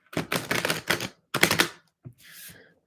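Tarot cards are riffled and shuffled in quick bursts, crisp and close, with a short pause before a final softer riffle.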